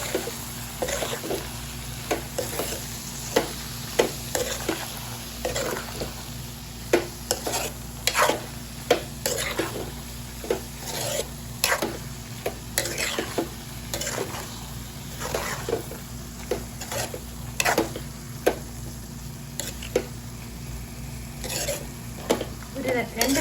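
Kerala-style avial vegetables with ground coconut paste stirred in a pan, repeated scraping and clacking strokes of a spoon at an irregular rhythm over a low simmering sizzle, near and fairly clear.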